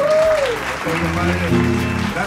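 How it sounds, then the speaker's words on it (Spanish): Audience applause for a live norteño band on stage, broadband clapping throughout, overlapped by someone talking and a sustained musical tone. "El aplauso, vale, Gracias"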